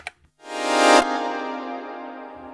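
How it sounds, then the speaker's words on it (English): A reversed Prophet synthesizer tone built from a simple sawtooth with slow attack swells up loud after a brief click, cuts off abruptly at its peak, and leaves a sustained ringing tail that slowly fades, heard alone. "there are these reverse Prophet sounds"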